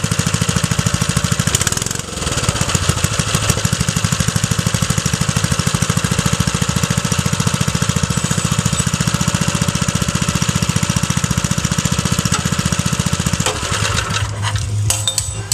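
A small old Wheel Horse garden tractor engine, started cold on the first pull, clatters loudly and steadily with a fast knocking rhythm, running throughout and shifting near the end; no talking.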